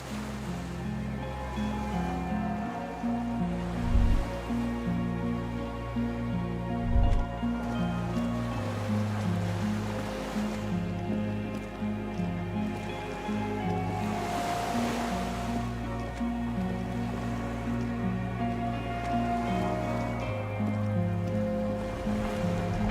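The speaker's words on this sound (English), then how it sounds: "The skiff is swaying on the waves by the dock." Waves lap against a skiff swaying at a dock in Disco Elysium, a steady watery wash over a low musical drone, with a couple of soft thuds of the hull.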